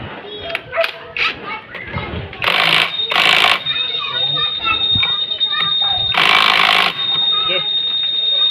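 An impact wrench fitted with a 19 mm socket works on the torque drive of a Honda ADV scooter, rattling in two or three loud, harsh bursts between quieter stretches of talking and shop noise.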